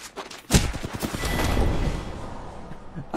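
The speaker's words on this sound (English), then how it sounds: "Now I'm getting shot in the back." Gunfire in a video game, a rapid fusillade of shots opening with a loud crack and rolling into dense overlapping bursts and booms that then trail off, with a sharp shot at the end.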